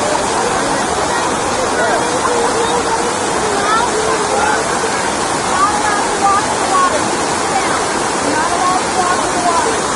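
A large public water fountain in Washington DC splashes and roars in a loud, continuous wash of water, with a crowd murmuring faintly underneath.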